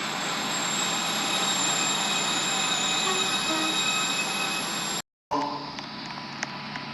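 A train passes through Stepford Central station in the Roblox game Stepford County Railway with a loud, steady rolling rumble and high squealing wheels for about five seconds, then a brief dropout and a quieter, lighter rattle.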